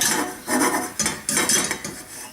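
A pancake pan slid back and forth on a stovetop burner, metal scraping and rattling in several close, uneven strokes, with no talk.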